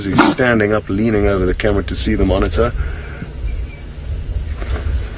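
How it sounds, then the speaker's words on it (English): Sharp, dog-like barking alarm calls of a nyala antelope sound in the background while someone talks in the foreground. "now you can hear the Inyala alarm calling"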